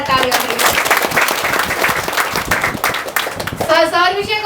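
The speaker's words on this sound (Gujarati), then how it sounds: "એ માટે એકવાર યોગેશ સર માટે જોરદાર તાળીઓ" An audience at a public speaking workshop applauds Yogesh sir with loud, sustained clapping, while a voice speaks over the tail end.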